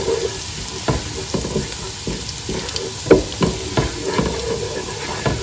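Food sizzles and fries in a pan while being stirred, with a steady hiss broken by intermittent scraping and clacking taps of the utensil, close and fairly loud.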